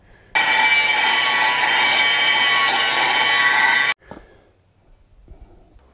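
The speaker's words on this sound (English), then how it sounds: "So I'm just going to go ahead and grind off," An angle grinder grinds steel off a Caterpillar D4 Hyster winch part, a loud, steady, harsh whine held for about three and a half seconds before cutting off, followed by a faint clink and quiet handling.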